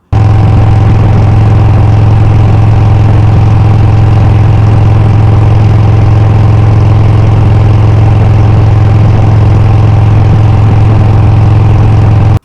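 Motorcycle engine breathing through a TAB Performance Redline Series 2-into-1 exhaust, a loud, steady low rumble that holds close and constant throughout with no clear rev swells.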